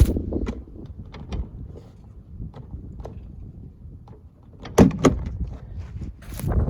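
A Dodge Neon car door, from a 1995–1999 model, is yanked open in wind, giving a sharp clunk and rattle near the end against steady wind buffeting and faint handling noises.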